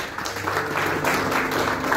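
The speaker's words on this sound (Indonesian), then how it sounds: "Tepuk tangan segera yuk." A church congregation at a worship service in a hotel breaks into steady, close applause that holds through the whole stretch, dense and even with no voices over it.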